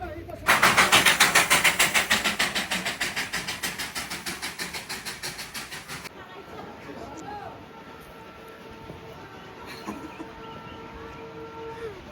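Darjeeling toy train arriving at Batasia Loop, its loud, rhythmic chuffing beats fading over several seconds and then giving way to quieter outdoor ambience with faint voices.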